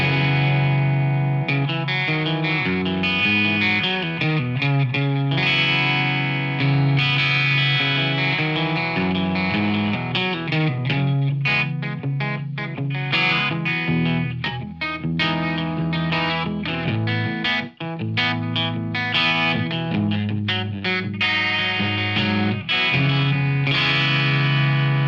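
A Peavey AT-200 AutoTune electric guitar on tuning preset 2 plays a heavily processed, continuous strummed passage with thick, shimmering effects and distortion, loud and steady throughout with no talking.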